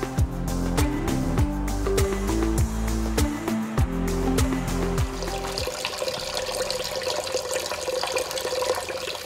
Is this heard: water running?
yes